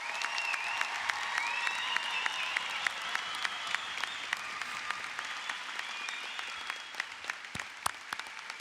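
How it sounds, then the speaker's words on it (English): Audience applause fills a high school graduation ceremony at Park Hill High School, a steady wash of many hands clapping from a large crowd with scattered sharper claps, sustained throughout at moderate distance. "Round of applause for these students who scored better than the floor up."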